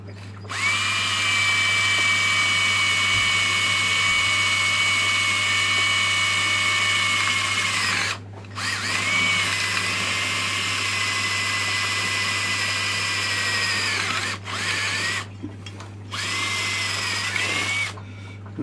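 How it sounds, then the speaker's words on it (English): A power drill fitted with a small bit bores a hole during a light upgrade on an Amano aquarium tank, a loud whining motor held for several seconds at a time with short pauses between bursts. "I'm going to put a small bit in the drill. Pinch that up tight, grab that, and then we've got to drill a hole through there now."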